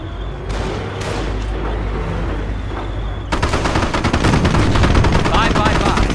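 Dense gunfire and rattling machine gun bursts fill a Company of Heroes battle scene, loud and continuous, intensifying midway into a sustained barrage with shouted voices mixed in.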